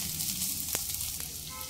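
Ginger garlic paste fries on a low flame, a steady soft sizzle with a couple of faint clinks from stirring, no voices.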